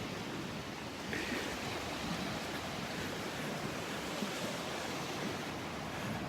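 Waves on Vanderbilt Beach, a constant broadband wash of surf mixed with wind rumble on the microphone, steady and moderately loud with no distinct breaks and no voices.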